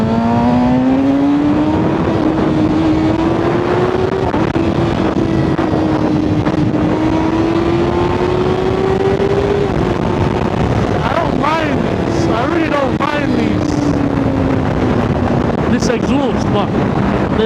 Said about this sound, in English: Exhaust, but there's no snap,